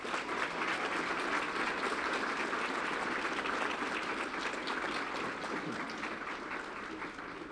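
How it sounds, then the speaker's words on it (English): An audience at a school board meeting applauds continuously, a thick, even wash of clapping that holds steady and tapers slightly toward the end, with no voices over it. "If you could please join me in giving them a round of applause."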